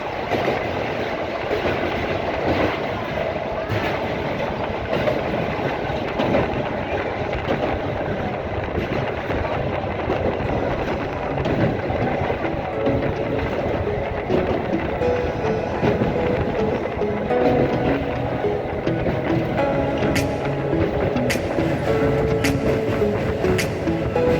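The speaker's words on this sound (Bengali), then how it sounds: "আমরা এখন পার হচ্ছি রূপনারায়ণ নদীর ওপর কোলাঘাট রেল ব্রিজ।" A Santragachi–Mecheda local train rumbles across the Kolaghat rail bridge over the Rupnarayan river, a loud continuous roar with steady wheel clatter heard from inside the carriage.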